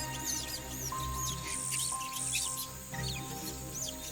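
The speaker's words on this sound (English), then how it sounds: "hundreds of bird species begin the morning chorus" A dawn chorus in the Amazon rainforest: many bird species calling and whistling at once, with repeated chirps and trills layered over a steady insect hum, moderately loud and continuous with no voices.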